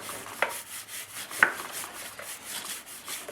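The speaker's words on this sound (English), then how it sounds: "go through one more time and just give it a light scrub" A bicycle chain is scrubbed with a brush in quiet, repeated rubbing strokes, with two sharper metallic clicks standing out near the start.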